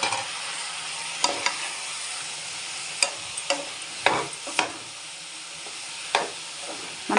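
Mushrooms fry with green chillies in a pan, giving a steady close sizzle broken by several sharp scrapes and clacks as the spatula stirs.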